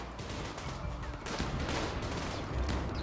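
Soldiers opening fire on mechanoids in Rimworld, a fairly faint, ragged burst of overlapping gunfire and rapid shots continuing across the whole moment, with no one speaking.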